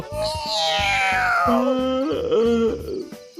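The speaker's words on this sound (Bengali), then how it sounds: "বিড়াল" A cartoon cat's drawn-out meow with a rising then falling whine, broken into a few pulsing segments over a low repeating musical backing.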